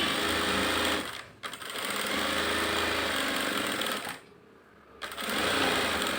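A sewing machine runs fast and steadily while stitching a straight seam on a blouse, with a dense rhythmic whirr that briefly stops twice and then resumes, close and loud.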